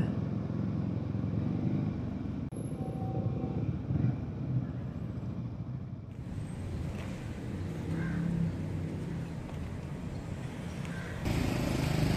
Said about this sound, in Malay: So kita nak parking dulu motor kita.